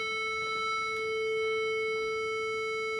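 A steady sustained A reference pitch for viola tuning holds for the whole clip, unwavering and moderately loud, with a faint background hum beneath it.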